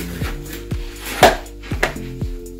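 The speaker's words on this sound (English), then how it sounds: "So at the moment I'm cutting it. And I'm going to cut it into dices." A knife chops belly pork on a board, with about six sharp, evenly spaced thuds close up, each with a short woody ring, over quiet background.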